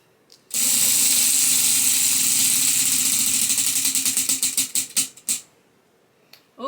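A prize wheel spins with a dense, rapid rattle of clicks that gradually spread out into separate, slowing ticks and stop after about five seconds, heard close and alone.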